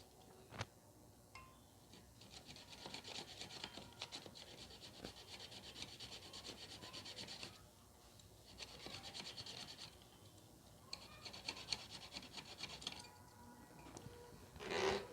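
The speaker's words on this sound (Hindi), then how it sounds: "अभी थोड़ा और घिसना पड़ेगा।" Steady rasping strokes of a file on a harmonium reed during tuning, continuous and fairly quiet with a few brief pauses and a sharper scrape near the end.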